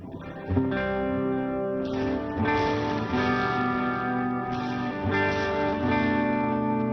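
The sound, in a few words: bass guitar through a mini pedalboard with delay and reverb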